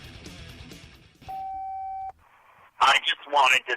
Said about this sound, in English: Leave a message after the tone.